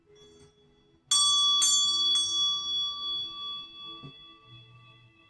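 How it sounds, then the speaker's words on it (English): A hand bell rung three times in quick succession, bright ringing tones that linger and slowly decay, close and clear in a quiet room. "I'm just going to ring my bell just to clear the energy out"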